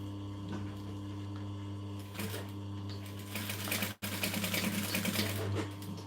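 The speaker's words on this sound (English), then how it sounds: "what I am going to do is stitch these together at this end" A sewing machine stitches together fabric pieces of a business bag in a steady mechanical run over a low mains hum, with a brief pause near the middle before the stitching resumes.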